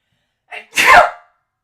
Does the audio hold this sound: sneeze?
yes